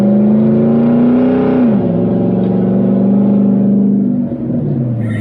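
Loud, steady engine drone from a large SUV, either a Land Cruiser LC300 or a Y62 Patrol, revving hard. The pitch dips briefly and then holds a heavy rumble, with no talking.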